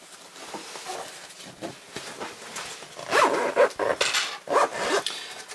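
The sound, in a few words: zipper being closed on a sewn round purse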